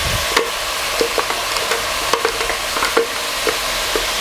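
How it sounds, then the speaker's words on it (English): Beef fries in hot oil in a pan with a loud, close, steady sizzle, punctuated by regular scraping taps of a utensil stirring every half second or so. "I wait for my beef to cook in the oil for some minutes"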